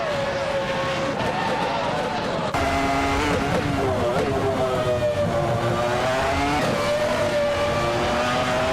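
Williams FW18 race car engines in a racing video game whine at high pitch, several at once, their tones rising and falling as they shift and chase each other, loud and continuous throughout.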